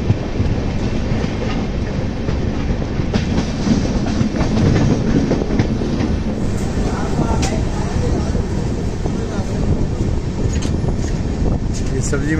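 Passenger train from Katra to Delhi rolling along the rails through Delhi, with a steady close rumble and faint clickety-clack throughout and people talking over it.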